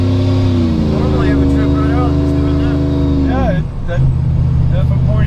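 A Procharged Chevrolet Trailblazer pulls out and accelerates, its engine droning loud and steady with whining harmonics that rise and dip. People talk over it.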